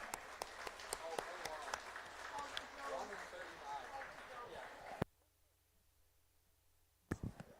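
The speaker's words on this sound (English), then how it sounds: "let's give them another nice round of applause" Crowd applause for exhibitors at a junior 4-H steer show in Saskatoon, a few seconds of scattered clapping under an announcer's voice, then a sudden drop to near silence before a brief burst of noise.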